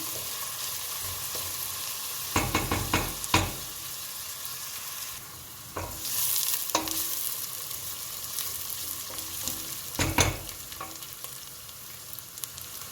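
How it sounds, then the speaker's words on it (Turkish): Steady frying sizzle from a pan as food is sautéed in vegetable oil for an olive-oil green bean dish, broken by occasional louder clatters and scrapes of stirring, with no one talking. "Pembeleşinceye kadar kavuracağım. Ara ara karıştıracağım yanmasınlar diye."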